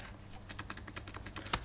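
Soft, rapid typing on a computer keyboard, a steady patter of light key clicks at close range while text is entered in Android Studio.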